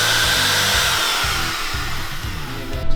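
A rotary tool fitted with a router bit grinds steadily on metal while fitting parts of a cheap eBay turbo kit to a Honda Civic, a close, loud, continuous high whine with a rougher burst at the end.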